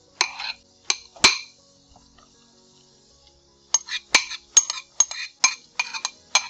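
A spoon clinks and scrapes against a frying pan as hot pepper is stirred into frying green plantain, in sparse bright taps followed by a quicker run of clinks, close and without talk.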